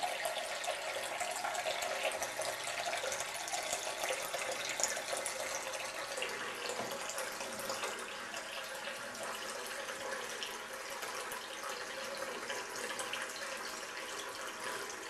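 Tap water running in Melendugno, a steady close hissing stream pouring continuously and evenly without pause.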